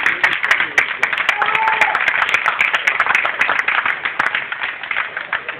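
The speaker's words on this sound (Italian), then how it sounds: "immagino che l'applauso fosse rivolto a lui" Audience applause in an Italian talk setting, a sustained patter of many hands that thins toward the end into scattered claps, moderately loud and somewhat distant.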